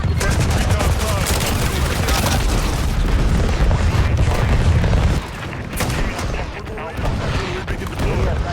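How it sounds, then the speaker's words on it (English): Artillery strike in Call of Duty Modern Warfare, dense rolling booms and rapid gunfire rumbling loudly and continuously, with a brief lull before the barrage resumes, and a voice speaking over the din. "Friendly artillery"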